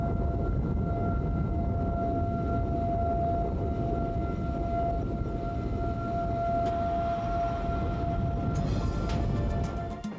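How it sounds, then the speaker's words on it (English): A steady civil defense siren tone drones on in Waukeeta over a broad rumbling background, heard from a distance with no voices. "Sirens in Waukeeta"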